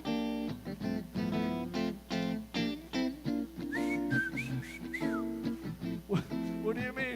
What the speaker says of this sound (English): you can listen to me whistle all the way there